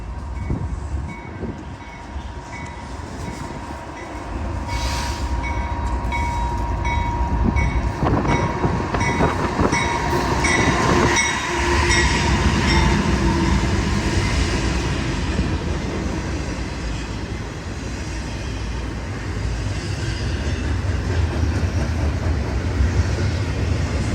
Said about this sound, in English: Eastbound Burlington Northern Santa Fe Railway intermodal